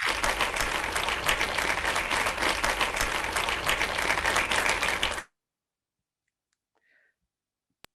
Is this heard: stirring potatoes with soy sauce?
no